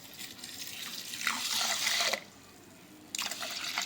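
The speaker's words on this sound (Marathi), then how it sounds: "यात घालू पाणी" Water is poured from a tap into a cooking pot holding vermicelli, a close, gushing stream in two bursts separated by a brief pause.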